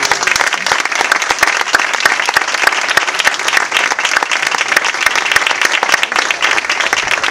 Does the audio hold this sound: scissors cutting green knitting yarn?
no